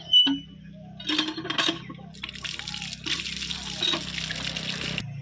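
Durva grass gets rinsed by hand in water, giving a run of splashes, trickles and sloshing bursts, starting with a sharp plop and continuing in uneven waves.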